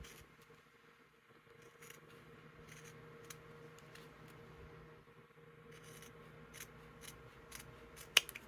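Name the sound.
trimming with Fiskars scissors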